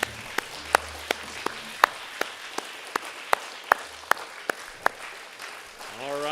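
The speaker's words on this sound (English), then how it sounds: "Let's give them a round of applause." A standing ovation at a sports banquet is heard as sparse, distinct claps rather than a dense wash, with a low murmur of voices underneath.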